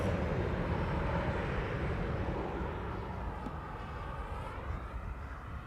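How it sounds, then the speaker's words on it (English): Cathay Pacific Airbus A350-1000 rolling for takeoff at Amsterdam Schiphol, a broad steady jet engine roar at a distance that slowly fades. "The A350-1000 is also rolling already."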